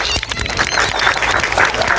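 A crowd gives steady, strong applause for the winning player of an outdoor school attention game, with continuous clapping filling the scene.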